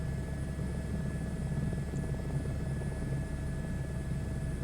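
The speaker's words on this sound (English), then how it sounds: "definitely am really enjoying flying this helicopter." A Bell helicopter in Microsoft Flight Simulator 2024 produces a continuous, steady rotor and engine drone, heard from the cockpit on a scenic flight from Leh to Manali.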